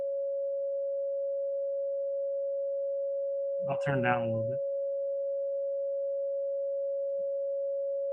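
A steady pure synthesized tone from a SuperCollider SynthDef holds unbroken at one pitch throughout, with a brief spoken remark partway through.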